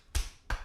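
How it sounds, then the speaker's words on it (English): Two sharp, close hand claps, roughly a third of a second apart, ring out in a quiet room during a live comedy stage show. "If I just clap my hands,"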